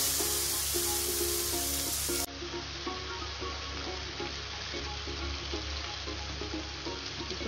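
Turmeric, chili powder and salt sizzle steadily in hot oil for sambar, a close, continuous frying hiss with light stirring and no talking.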